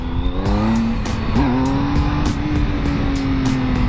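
A 2016 Triumph Speed Triple S motorcycle is ridden in first gear, its engine holding a steady droning note that rises briefly, accompanied by rushing wind and regular rhythmic clicks.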